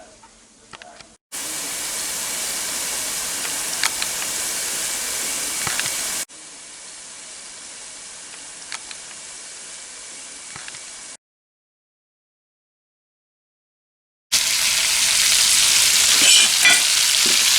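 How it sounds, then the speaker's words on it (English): Festival dough fries in hot oil, a steady loud sizzle heard in several sections broken by cuts and a stretch of silence, with no talking. "We have festivals being fried, and this is the festival dough."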